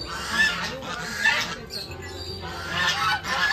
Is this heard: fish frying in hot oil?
no